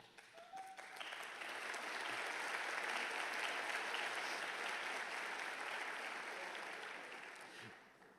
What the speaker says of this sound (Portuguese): É muito simpático bater palmas